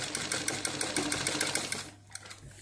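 A sewing machine stitches cloth for a kitchen apron, running steadily and fairly close for about two seconds before stopping, followed by a brief mechanical click and quiet.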